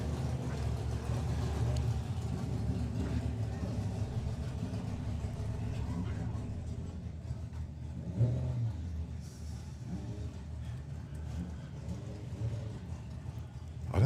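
Drag racing cars, a Honda and an Oldsmobile, rumble and rev at the start line, a low engine drone rising and falling with a sharper burst partway through and another at the end.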